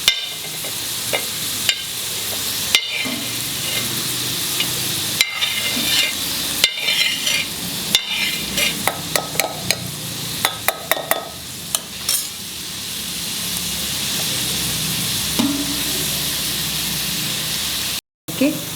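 Coconut sautéing on a medium-low flame gives a continuous close sizzle broken by repeated sharp spatula scrapes and taps against the pan, with brief talk in places.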